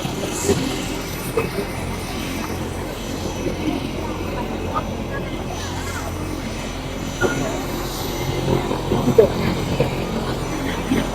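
A helicopter passes over an Eidgah ground in Cumilla, a broad low droning rumble running steadily throughout beneath crowd noise and people talking.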